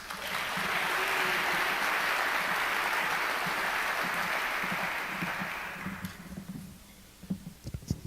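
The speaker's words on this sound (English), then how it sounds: "let's give a round of applause to Jerry Fox, the managing partner of Cherry" Audience applause at an evening business competition event hosted by a chamber of commerce, a sustained, dense crowd of clapping that holds steady for about six seconds, then thins into scattered individual claps before fading out.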